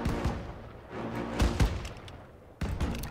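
Gunfire in the World War II shooter Call of Duty: WW2 comes as loud, sharp shots and booms in irregular bursts, with a heavy report near the middle and another burst near the end.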